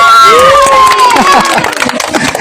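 Crowd at a village cock-fighting game in Bangladesh clapping for the first-prize winner, scattered uneven claps and cheering mixed with loud voices and someone speaking over them.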